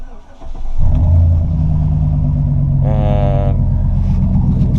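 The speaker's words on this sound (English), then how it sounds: "So now what I'm going to do is I'm going to start the truck up," A pickup truck engine cranks and catches, then settles into a loud, steady idle close by, with a brief rising rev partway through and no talk over it.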